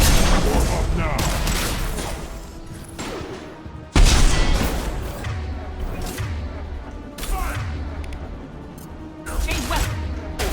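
A squad exchanges heavy gunfire in the video game Mass Effect 2, with dense bursts of shots, booming impacts and a big blast near four seconds, while voices call out over the combat.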